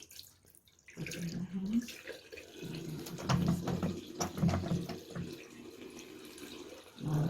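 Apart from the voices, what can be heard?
water running from a tap while washing hands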